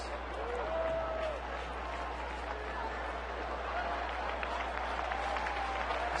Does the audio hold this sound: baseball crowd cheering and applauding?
yes